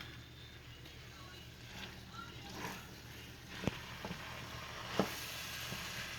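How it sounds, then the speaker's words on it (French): White beans being stirred into a thick sauce in a pot, a low steady simmer with several sharp scrapes and knocks of a spoon against the pot, while a voice talks in the background. "So I'm going to stir everything."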